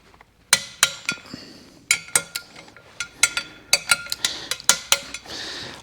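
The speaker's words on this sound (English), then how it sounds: "we will go back with our torque wrench and get these all torqued down" Torque wrench tightening bolts on a Wilwood TX6R big brake front kit fitted to a 2024 Ford F150 4x4 5.0, giving a series of sharp, close metallic clicks at an irregular pace, with no talking.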